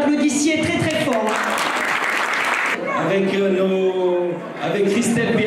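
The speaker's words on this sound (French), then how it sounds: "je voudrais que vous l'applaudissiez très très fort." Applause rises from an audience at a chefs' event in Auron, clapping surging loudly between stretches of someone speaking over a microphone.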